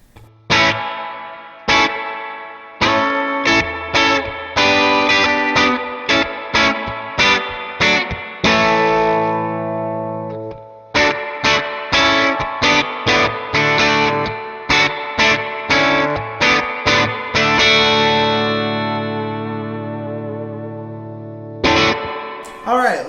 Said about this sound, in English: Let's go ahead and dime the reverb really quick.